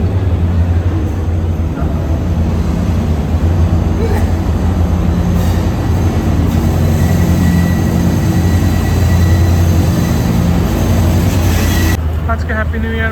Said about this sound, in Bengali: এদিকে আরেকটা ট্রেন আসলো